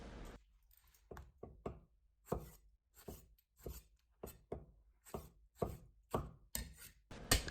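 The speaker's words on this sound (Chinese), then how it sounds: "将西红柿扒掉外皮，再清洗一遍，去掉蒂，改刀成小丁。" A knife dices peeled tomatoes into small cubes on a cutting board, a quick irregular series of crisp, close chopping strikes separated by short pauses, with no talking.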